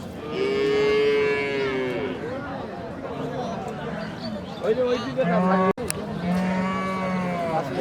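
A large dairy cow at a busy cattle market moos in long, loud, close calls, one at the start and another near the end, with crowd chatter and voices mixed in around them.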